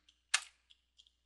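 A few sparse keystrokes on a computer keyboard, with one louder, sharper key press among faint light clicks in a quiet room.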